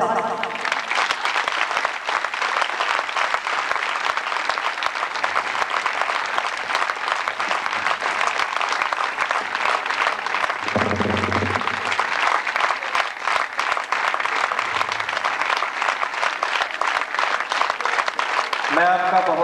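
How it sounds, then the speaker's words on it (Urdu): A school annual function audience gives sustained, dense applause that fills the hall for nearly the whole stretch, loud and continuous, with a brief voice near the end. "آپ کی بھرپور تالیوں میں"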